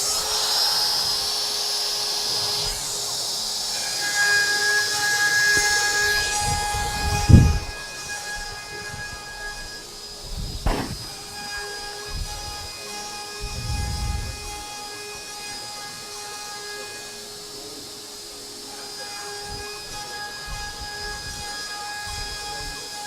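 A CNC router cuts during a shop demonstration, giving a steady high-pitched whine with stable tones that runs throughout. A few sharp knocks and low thumps break in near the middle.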